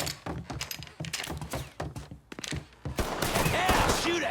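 Rapid bursts of gunfire in a Mafia III video game shootout, crackling volleys in quick irregular rhythm that swell into a denser, louder barrage toward the end, with faint shouting mixed in.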